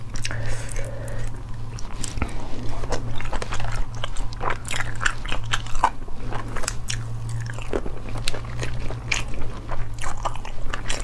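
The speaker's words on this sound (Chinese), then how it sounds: "把壳吃了。" Someone bites and crunches through a shell, a steady run of close, sharp crunches and chewing sounds over a low background hum, with no talk.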